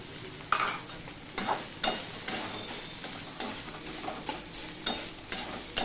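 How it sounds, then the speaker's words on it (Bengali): Banana stem cooking in a pan with turmeric and ginger is stirred by a utensil in a steady series of scraping, clattering strokes over a soft sizzle. It is close and moderately loud, with no talk. "দিয়ে মিশিয়ে নিয়েছি ভালো করে থোড়ের সাথে"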